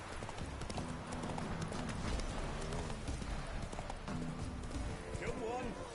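Hooves of Geralt's horse Roach clip-clopping at a steady trot in The Witcher 3, a rhythmic patter of hoofbeats under continuous talk and ambient game sound.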